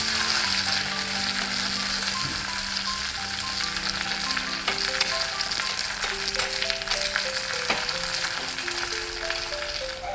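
Curry leaves and two dried chilies crackle and sizzle steadily in hot oil with popping mustard seeds, a close, continuous frying hiss with scattered sharp pops throughout.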